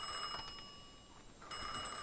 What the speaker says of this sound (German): Wo jetzt gerade das Telefon klingelt.